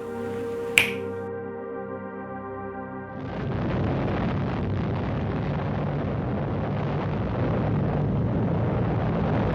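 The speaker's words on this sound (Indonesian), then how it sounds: "Berikut adalah footage ledakan dari bom nuklir tersebut." A sharp crack, then after a short pause a deep, sustained roaring rumble of a massive nuclear bomb explosion that keeps thundering steadily.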